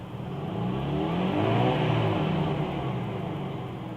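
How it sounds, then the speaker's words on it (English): A classic Toyota Crown's engine revs steadily to high RPM, the mid-pitched drone swelling and easing back over a few seconds with no talk. "Let me just give it a few revs."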